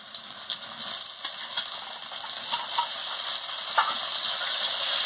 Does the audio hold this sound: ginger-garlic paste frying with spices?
yes